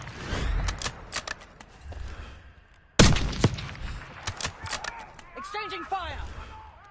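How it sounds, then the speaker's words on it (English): Gunfire exchange in the Black Ops 6 video game campaign, with bursts of shots and sharp impacts, a heavy blast-like hit around the middle, and chaotic battle noise running under game voices. "Exchanging fire!"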